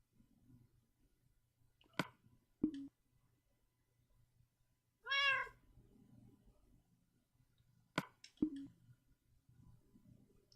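A single short cat meow sounds midway, surrounded by a few sharp clicks and taps in a quiet room.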